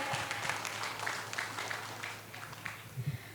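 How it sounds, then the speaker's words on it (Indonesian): Audience applause at a Friday community gathering with the acting mayor of Malang, a steady patter of clapping from a moderate crowd throughout, fairly distant and even, swelling slightly near the end. "Boleh kita berikan tepuk tangan yang meriah Bapak Ibu sekalian?"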